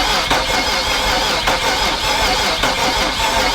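A BMW N54 engine starts up after oil has been primed through it, filling the whole stretch with a loud, steady, close-up mechanical roar and a few sharper bursts along the way.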